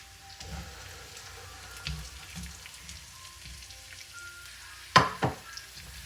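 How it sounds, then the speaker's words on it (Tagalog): Ginger and onion sautéing in a pan for native chicken, a soft continuous sizzle with scattered stirring bumps and a sharp clatter of utensil on the pan near the end. "Gigisa natin hanggang sa magkulay golden brown siya"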